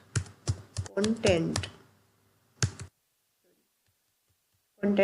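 Code is typed on a computer keyboard during a CSS lesson, with quick bursts of close, crisp key clicks separated by pauses, and a voice briefly heard between them.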